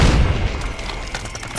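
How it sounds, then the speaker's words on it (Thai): A heavy, booming grenade explosion in Call of Duty Mobile rumbles with deep low-end energy and a dense, crackling wash of noise that slowly fades, with no voices heard. "อุ้ยระเบิด"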